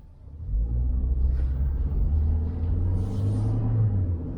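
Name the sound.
small 1.2 litre car driving and changing gears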